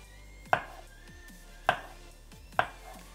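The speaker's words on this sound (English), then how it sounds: "Now we take our lobster mushrooms and we cut them up into thin slices." Lobster mushrooms being sliced thin with a knife on a cutting board, three crisp, evenly spaced chops ringing out close and alone against a quiet room.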